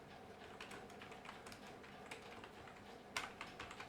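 Computer keyboard typing, a continuous patter of soft close key clicks with a louder keystroke near the end, over a faint room hiss.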